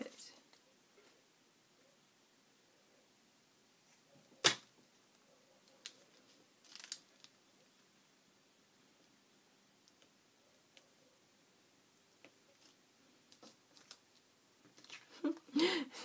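Scissors snip paper while making ephemera: a few sharp, isolated cuts spaced out over quiet, faint room noise, with a cluster of quick snips near the end.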